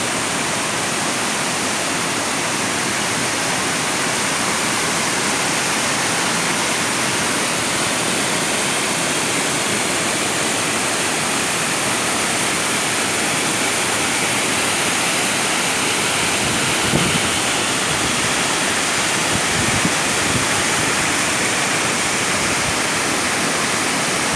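Kaigal waterfall in Chittoor district roars as a loud, dense, unbroken wash of falling water, steady and close for the whole stretch, with a faint brief disturbance near the end.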